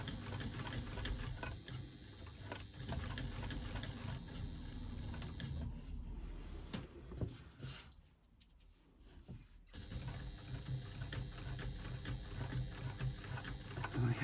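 A sewing machine free-motion quilts a feather design, its needle buzzing in fast, continuous bursts close by, briefly pausing and quieting mid-way before resuming at full pace.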